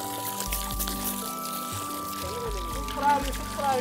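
Mountain spring water pours and trickles steadily close by near Maruthanadhi dam, Dindigul, a continuous splashing flow with faint voices underneath.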